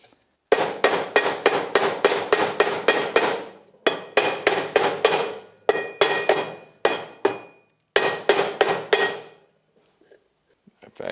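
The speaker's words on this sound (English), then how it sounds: "I'm just tapping on the outside edge with a soft blow hammer" Quick bursts of sharp tapping blows from a soft blow hammer on a Honda Rancher rear brake shoe edge, several strikes in each rapid run with brief pauses between, close and crisp against a quiet background.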